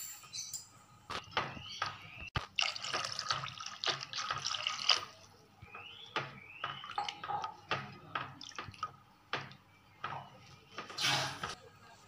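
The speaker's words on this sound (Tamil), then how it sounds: "இப்போ இந்த குழம்புக்கு தேவையான அளவு தண்ணி நான் ஊற்றிக்கிறேன்." Water poured into simmering fish gravy in a home kitchen, a run of splashing and trickling pours with brief pauses between them.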